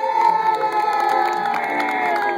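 A festival crowd cheers for a dance couple at a dance contest, a dense, continuous wash of shouting, whooping and high children's voices.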